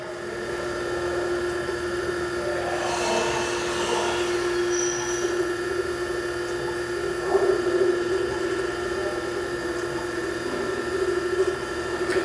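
An Okamoto 618DX3 hydraulic surface grinder sparks out with its wheel running, producing a constant droning mechanical whine with faint scraping texture. The sound is steady and close, with no voices.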